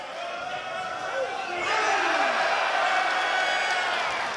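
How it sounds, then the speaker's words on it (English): A sold-out crowd at a live wrestling event at center stage roars and cheers, swelling louder midway into a dense sustained din, with scattered shouts and whistles rising above it. "Sold out crowd filing in here on the countdown to final resolution."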